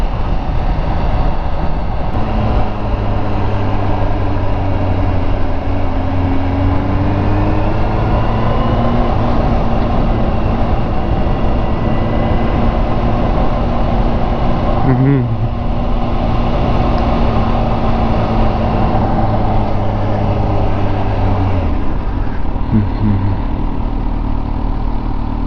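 2018 Kawasaki Ninja H2 SX supercharged motorcycle engine, a steady loud drone whose pitch shifts slightly while riding, with a few brief bumps and changes in tone and no talking.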